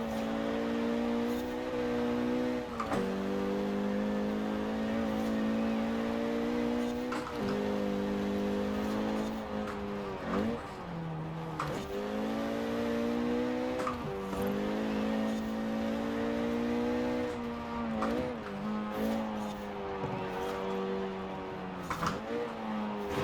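A Renault Megane R26.R, front-wheel drive, races in Forza Horizon 4, its engine droning steadily near and loud with repeated quick gear-shift dips, brief lifts and occasional tire squeal through corners.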